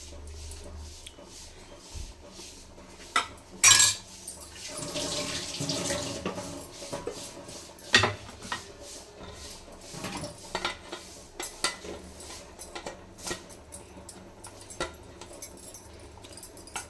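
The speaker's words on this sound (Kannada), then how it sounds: "ಸ್ವಲ್ಪ ಮಿಕ್ಸಪ್ ಕೊಟ್ಟು ಲೆಡ್ ಮುಚ್ಚಿದ್ರೆ ರೈಸ್ ರೆಡಿ ಆಗಿಬಿಡುತ್ತೆ" Pulao rice is stirred in a pot with a ladle, clinking and scraping against the metal, followed by the lid being closed with a clatter; watery bubbling and kitchen handling sounds fill the background, close and moderately quiet.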